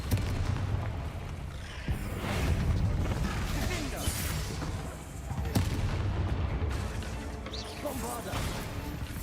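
Confringo spell blasts in Hogwarts Legacy burst out repeatedly as sharp, loud explosive cracks amid continuous battle noise and rumbling, with voices heard in the mix.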